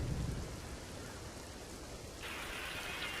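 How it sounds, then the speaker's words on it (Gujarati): Monsoon rain falls over Surendranagar and Limbdi in Gujarat, a faint, steady hiss of downpour throughout with a brief low rumble at the start and no voices. "સુરેન્દ્રનગર અને લીંબડી સહિતના વિસ્તારોમાં વરસાદ શરૂ થયો છે"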